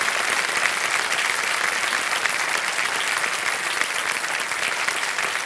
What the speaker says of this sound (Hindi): तालियां बजती रहें जोरदार।